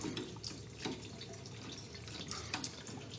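Water runs steadily from the test cock of a backflow preventer during a test, a continuous splashing hiss with small spikes, heard close and on its own.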